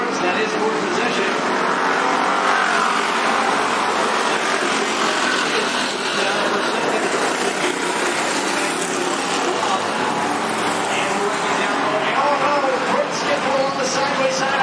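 Race cars roar around the Cottage Grove Speedway oval, a loud continuous engine drone from several cars, with excited talk running over it the whole time.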